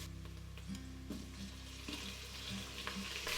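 Sliced onions and chopped potatoes with a green chili sauteing in ghee in a pot, a steady soft sizzle with occasional scraping stirs and clinks, quiet and close without speech.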